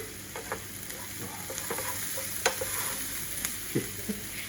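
Garlic fries in a dish, giving a steady close sizzle broken by scattered crackles and the scrape of stirring.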